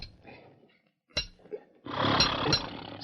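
Radio-drama foley of a hammer driving nails into a horseshoe at a forge: a sharp single strike, then a louder, sustained metallic clanging burst with two bright ringing hits, near and without voices.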